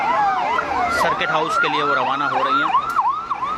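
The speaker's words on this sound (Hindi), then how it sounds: "देखो, गाड़ियों के सायरन की आवाज़ लगभग आ चुकी है।" Wailing sirens of a motorcade carrying Bangladesh's Prime Minister Sheikh Hasina on a visit in Rajasthan, several rising-and-falling tones overlapping loudly and continuously while someone speaks over them.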